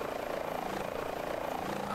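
Helicopter rotor in a flight simulator game, a steady, continuous whirring drone that holds at an even level for the whole stretch, with no breaks and no other sounds standing out.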